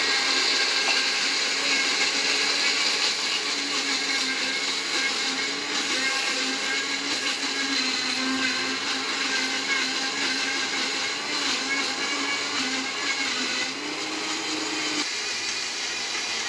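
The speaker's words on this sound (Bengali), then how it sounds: "সব দিয়ে ভালো করে ব্লেন্ড করতে হবে।" A blender runs continuously on cucumber juice, a loud steady motor whine with a grinding, churning texture that shifts slightly in pitch as the contents spin, with a small drop in level near the end.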